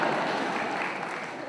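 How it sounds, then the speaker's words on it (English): Audience applause at a Beethoven lecture, a steady broadband clatter of many hands clapping together, sustained at an even level throughout with no talk over it. "Please hold your applause"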